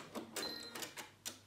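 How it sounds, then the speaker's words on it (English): A home sewing machine stitches fabric for a simple beginner fabric bucket, giving several short, quiet whirring bursts in an uneven rhythm with no voices. "I like to just do it with the sewing machine, it's easier."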